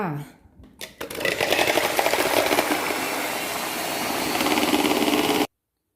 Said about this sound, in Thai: ตีวิปครีมเลยจ้า